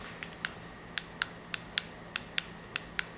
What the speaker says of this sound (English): it does make a clicking sound